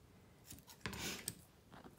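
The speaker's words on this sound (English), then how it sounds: "I'd like to cut this in half to make it an eighth inch wide" Scissors snip through a thin strip of tape at a sewing table, a few quiet, close crisp cuts and rustles with no talking.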